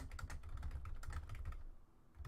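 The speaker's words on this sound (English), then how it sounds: "Is my typing obnoxiously loud again?" Rapid clatter of typing on a computer keyboard during a podcast recording, close and busy for about two seconds before a brief pause, with no voices.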